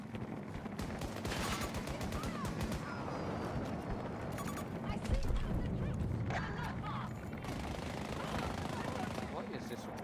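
Rapid automatic gunfire rattles in bursts from Battlefield combat, dense and continuous under layered game noise, while a person talks over it.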